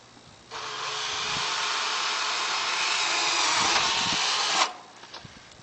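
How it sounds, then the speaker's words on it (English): Power drill driving screws into the old wooden frame that once held a gable vent, during a fire-safe vent retrofit; a steady, loud whirring burst of about four seconds, then stopping, with no talk. "I'm screwing into that frame that the old vent used to be in."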